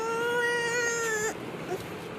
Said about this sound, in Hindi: ये बिल्ली है।